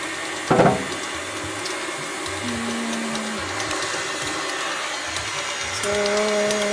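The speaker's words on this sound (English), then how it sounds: "Mixer on here." An electric hand mixer whirs through buffalo chicken manicotti filling, a steady close motor drone with scraping and bumps against the bowl, rising in pitch and intensity near the end.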